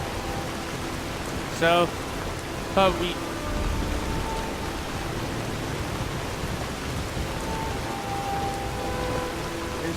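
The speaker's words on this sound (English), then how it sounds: "it's raining here" Rain falls in Skyrim at Shor's Stone as a steady, soft hiss running the full length, with a couple of brief sharp game effects early on and someone talking over it.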